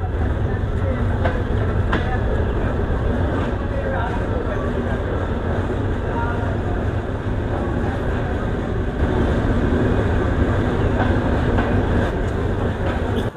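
The Sundarban Express runs through Pukhuria station without stopping, a dense, continuous rumble and rattle of rail cars with light clickety-clack, loud and close, while people talk over the din.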